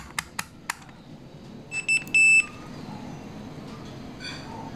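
Electronic beep from a continuity tester's buzzer while probing the pins of an Epson L5190 printer's ribbon cable, a few short tones and one longer steady tone, close and clear over a quiet room.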